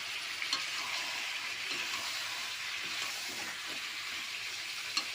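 Ground spice paste for chicken curry fries in a pan with a steady, close hiss and faint sizzling crackle running throughout, with no talking.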